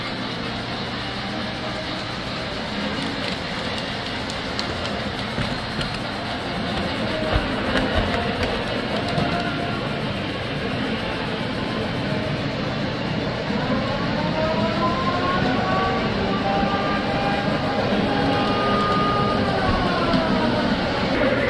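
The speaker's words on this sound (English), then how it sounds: "You've got an HO scale train running around the zoo" Continuous rumbling clatter of a small HO scale model train running on its track around a model zoo scene, with a faint rising squeal toward the end.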